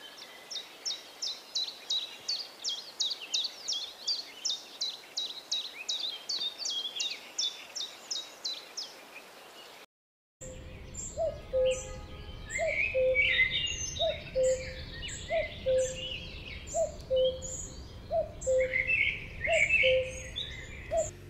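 A played recording of two migrant birds: a chiffchaff's rapid, steady run of repeated high chirps, then after a short gap a cuckoo's repeated two-note calls over a noisier outdoor background with other birds chirping.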